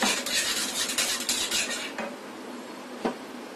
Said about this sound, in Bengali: একটা হুইস্কি দিয়ে এভাবে নাড়তে হবে।